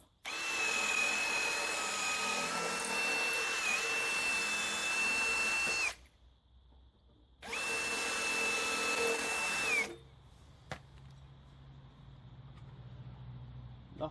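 A power drill enlarges a hole in a casting machine part, whining loud and steady in two long bursts separated by a pause, then stopping to a quieter background hum with a small knock.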